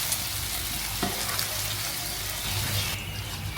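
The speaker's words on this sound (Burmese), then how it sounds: "အဲ့ဒါကြောင့် မကြက်တကြက်ကြော်မှာပေါ့နော်" Tofu fries in hot oil, a steady, dense crackling sizzle that carries on throughout with faint stirring scrapes and no talking.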